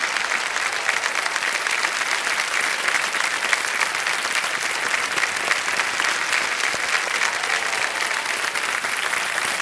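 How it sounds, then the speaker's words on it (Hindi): Loud, sustained applause from a large game-show studio audience on KBC India, dense clapping filling the whole stretch without pause. "जोरदार तालियां बज जाए इनके लिए"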